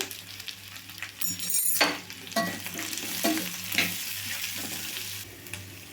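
Onions and cumin seeds fry in a pan for a bitter gourd onion masala, a steady close sizzle broken by repeated scraping stirs of a spoon against the pan, with no voices.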